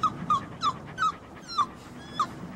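A dog whimpers in a steady series of about six short high whines, fairly faint and evenly spaced, with no talk.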